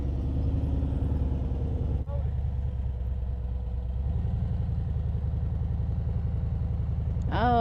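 Harley motorcycle engine on a Seattle street during U-turn practice, a steady close low rumble with a brief throttle rev near the end.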